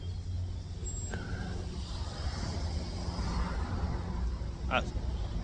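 Steady road traffic in a town centre, a continuous broadband rumble of passing cars and trucks with a brief air-brake hiss, heard from nearby without speech.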